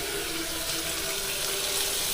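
Tap water running steadily into a pot for boiling rice in a home kitchen, a continuous close hiss and trickle lasting throughout with no talk.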